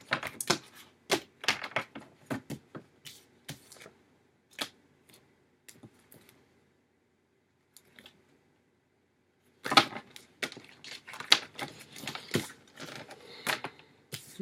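Tarot cards being shuffled and pulled during a reading, a run of quick dry flicks and riffles, a quiet gap, then a denser burst of card shuffling, close and alone without talk.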